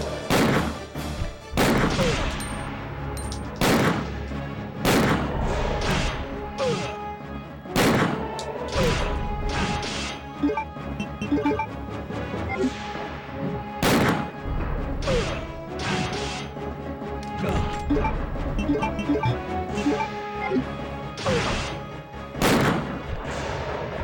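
Gunfire in Resident Evil 2 on PS1 as a boss is shot from a corner: a rapid series of loud, sharp game gunshots with crashing impacts, repeating steadily over music and ambient game sound.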